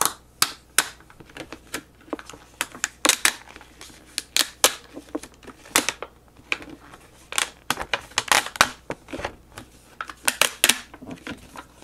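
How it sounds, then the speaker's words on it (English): Adhesive film peeled slowly off a sticky Brother Scan N Cut cutting mat, giving irregular crackling snaps and sharp ticks in bursts, close and crisp with no talking. "now I'm going to take out my mat. So now I can peel off my film"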